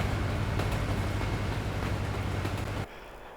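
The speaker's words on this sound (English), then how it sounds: "what is that noise? Where is that train at?" A train rumbles past in American Truck Simulator, a steady low, loud roar with faint clanks that cuts off abruptly near the end, leaving quieter background.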